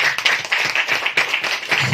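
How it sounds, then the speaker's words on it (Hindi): A church congregation applauds loudly for Jesus, a dense, steady wash of many hands clapping close by with rhythmic surges, no voices standing out. "हालेलुया, यीशु के लिए जोरदार ताली बजाएं।"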